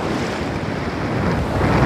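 Sea waves wash onto Hua Hin beach in Thailand's Gulf, a continuous broadband surf roar mixed with wind buffeting the microphone, steady and close with a slight swell toward the end.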